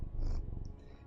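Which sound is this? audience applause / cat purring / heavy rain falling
cat purring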